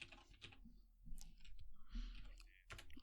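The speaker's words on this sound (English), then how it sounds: "can hear the typing" Rapid clicks of typing on a computer keyboard, fairly close, in short irregular bursts under and between people talking.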